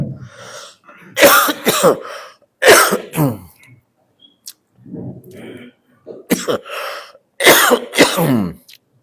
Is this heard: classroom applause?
no